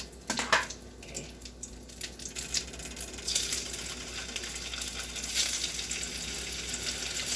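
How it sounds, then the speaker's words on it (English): Fish frying in a hot pan gives off a steady, close sizzle with crackling spatters and a few scrapes and clinks, no voices over it. "now we're going to cook the fish"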